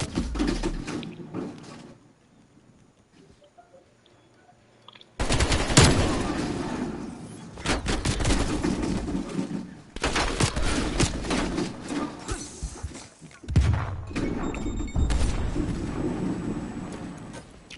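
Loud shotgun blasts from a video game crack out in heavy, ragged bursts, with long stretches of rapid, rumbling fire separated by short quiet gaps and a brief pause near the start.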